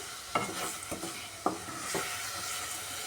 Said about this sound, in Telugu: లో ఫ్లేమ్లో పెట్టి ఒక రెండు మూడు నిమిషాలు బాగా ఫ్రై చేసుకోండి